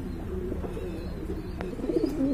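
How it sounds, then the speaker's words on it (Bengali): Pigeons at a market stall coo softly in low, rolling murmurs, close by over a steady background hum, with a few brief higher chirps mixed in. "খুবই সুন্দর কবুতর, চমৎকার দেখেন"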